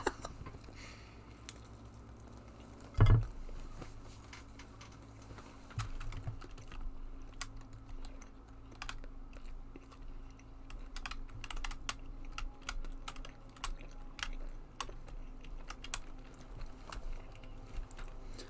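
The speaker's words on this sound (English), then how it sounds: "Yeah, my typing." Computer keyboard typing during a Total War: Warhammer II tournament setup: quick irregular clicks and key taps close up and fairly quiet, with one louder thump early on and no talk.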